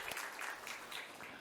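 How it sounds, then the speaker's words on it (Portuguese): A church congregation applauds in a steady, continuous burst of clapping that fills the whole short stretch at moderate loudness. "Vamos aplaudir o Senhor Jesus."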